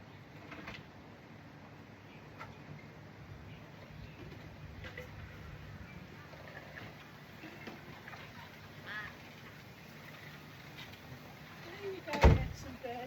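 Birds being fed cooing and calling faintly at a distance beneath a low, steady background, with some quiet human voice and a single sharp, loud knock near the end.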